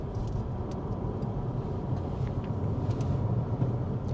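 A Hyundai Ioniq 6 electric car corners on the road, with a steady low road and tyre rumble in the cabin and no voices.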